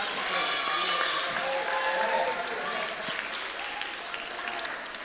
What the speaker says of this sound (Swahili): Wapigeni makofi tena